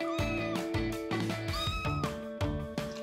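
A young black kitten meows repeatedly, giving a series of about six high, clear cries in close succession. It is near and fairly quiet, with no talking.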